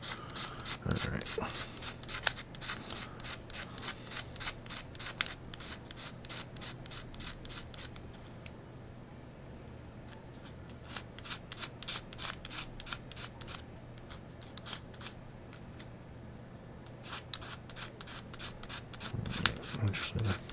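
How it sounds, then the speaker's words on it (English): Hand sanding of a 3D printed part, a steady rapid scratching rasp with regular strokes that runs nearly continuously for about twenty seconds, close and moderately loud, with a constant low hum behind it. "go ahead and let that part get sanded as well"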